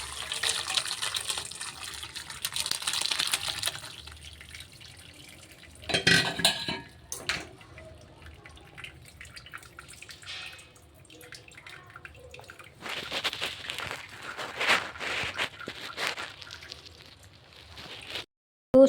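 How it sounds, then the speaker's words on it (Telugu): Water pouring and splashing as boiled macaroni pasta is drained, with metal pot clatter and drips in a kitchen, coming in uneven bursts separated by quieter pauses. "ఇప్పుడు పాస్తాలో నీళ్ళని వంచుకోవాలి."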